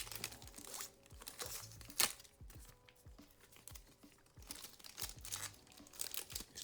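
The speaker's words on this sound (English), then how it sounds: "These plastic wrappers are a little less fun to open." A plastic wrapper on a 1990 Score Football Series 1 card pack is torn open, with soft crinkling throughout and one sharp rip near the middle. The sound is quiet and close, and nobody speaks.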